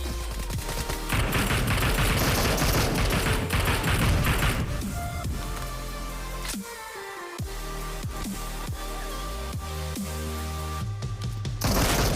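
Gunfire in a shooting video game built around sniping, with dense bursts of rapid shots and sharp bangs that repeat loudly and close across the whole stretch, and no voices.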